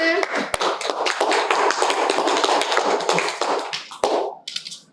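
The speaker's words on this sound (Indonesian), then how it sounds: "tepuk tangan untuk semuanya" A class of students applauds during a microteaching session, dense steady clapping filling most of the stretch with a few sharper taps, then quickly thinning out and fading near the end.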